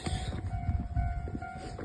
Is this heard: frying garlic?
no